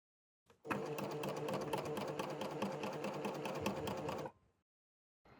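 A coverstitch sewing machine stitching a hem in a double layer of fabric, running in one fast, steady mechanical whirr with rapid needle ticks for about four seconds, then stopping abruptly, close and clear.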